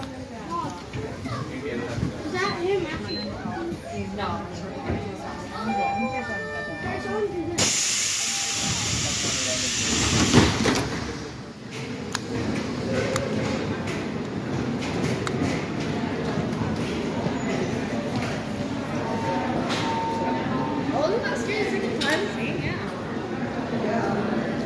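A Seattle monorail train pulls out of the station with a steady hiss and a rumbling run that carries on under occasional voices, and a loud burst of broadband noise sweeps past midway through.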